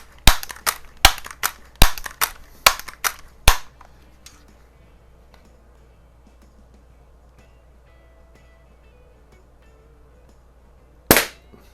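A Daisy model 922 .22 multi-pump pellet rifle makes a rapid run of sharp, close clacks, then falls quiet before one more crisp crack near the end.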